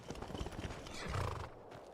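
A horse in the video game Skyrim whinnies and snorts while its hooves clip-clop in a quick rhythm, fairly close and loud, fading out near the end.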